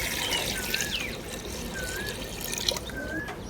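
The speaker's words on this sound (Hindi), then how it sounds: "पानी शामिल करांगे," Water trickles and pours into a cooking pot of biryani being made with halved potatoes, a soft continuous liquid splash at close range.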